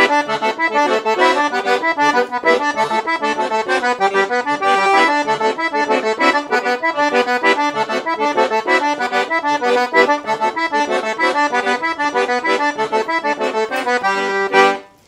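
Piano accordion playing the D section of a forró tune, a steady bouncy rhythm of bright reedy chords and melody, loud and alone, stopping abruptly at the end.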